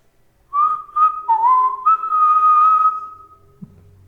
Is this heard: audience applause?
no